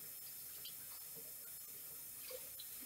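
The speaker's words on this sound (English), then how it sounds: "let's keep adding a little bit more cold water till it's cool" Cold water runs steadily from a kitchen tap into a sink or bowl, a continuous soft splashing hiss with no talking over it.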